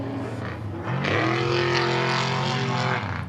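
Off-road race trucks at a desert race roaring past, a loud rising engine drone that builds sharply after a quieter start and holds strong to the end, with no talk.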